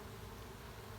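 Honey bees swarm around an open hive, a dense, steady hum filling the short moment without any voice.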